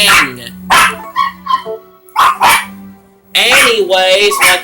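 Several pet dogs bark in short bursts at close range indoors, loud and overlapping, with brief gaps between volleys and a person talking over the noise at times.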